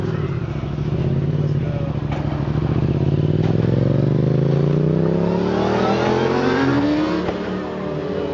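Several cars rev and accelerate as they drive off from a car meet, engines rising in pitch with overlapping roars and exhaust rasp, loud and continuous, with faint chatter in the background.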